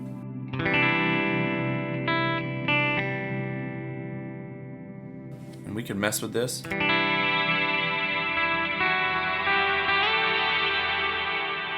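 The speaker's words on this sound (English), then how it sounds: "But we've changed what our reverb sounds like." Sustained electric guitar chords ring through an HX Stomp modeler with a modified reverb, lush and echoing, broken midway by a brief burst of other notes before the wash returns. Someone speaks briefly over it.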